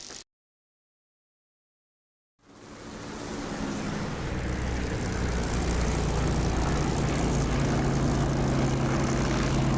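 P-51 Mustang propeller engine in the DCS flight simulator, starting after about two seconds of silence and swelling into a loud, steady droning roar that holds to the end with no talk.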